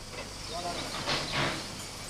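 A 1952 Peckett 0-4-0 saddle tank steam locomotive works inside a paper mill complex, giving off a broad continuous hiss with surges of steam over a muffled, noisy background.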